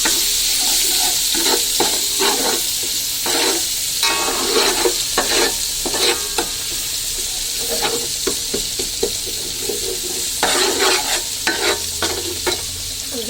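Garlic-ginger paste frying in a little cooking oil in a pan, a steady loud sizzle broken by repeated scraping stirs, close up with no voices.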